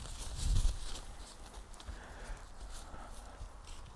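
A horse being asked to back up steps with a few soft clip-clop hoofbeats on the ground, a heavier thud early on, then quieter shuffling steps close by.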